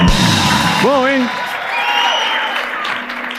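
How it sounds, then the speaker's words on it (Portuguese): A crowd at a studio interview show claps steadily, the applause filling the space while a voice whoops over it and a faint tone hums underneath. "salva de palmas pro Celso Portiolli."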